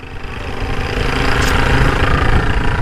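Sniper 200cc motorcycle with a Tobaki racing engine spec and Jhoe part aftermarket exhaust, running close and loud with a deep, steady throb that builds slightly over a few seconds.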